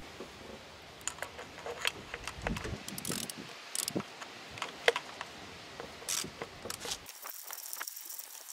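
A socket ratchet loosens the rocker cover bolts on a 2003 Skoda Fabia 1.9 TDI PD, producing quiet, close, irregular bursts of small metallic clicks with short pauses between turns.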